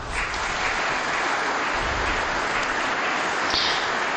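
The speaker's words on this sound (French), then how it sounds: "Très applaudi, un grand discours à nouveau de Benoît XVI dans ce château de Prague" Political authorities gathered at Prague Castle applaud after a speech by Pope Benedict XVI, producing a broad, continuous wall of clapping that fills the room evenly, with no voices over it.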